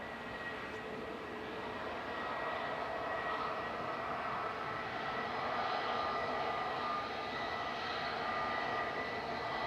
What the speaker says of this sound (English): Right, couple of EasyJets heading towards us now, straight down Tango.